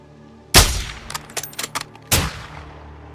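Gunfire in Call of Duty Modern Warfare II (2022): a loud sharp shot, a scatter of quicker lighter cracks, then a second heavy report, all close with no talking.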